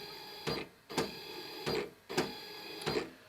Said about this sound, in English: Let's run the printer for a while and take a look at what the home screen tells us.